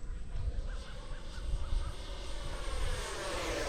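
A Futura 64mm RC model jet flies at full power with a steady, faint high whine from its ducted fan. The pitch sweeps slightly as it passes through turns, over a low wind rumble.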